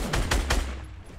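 In the Fortnite video game, a shotgun fires in three quick, loud blasts, closely spaced and with no talk, before the sound fades into a short tail.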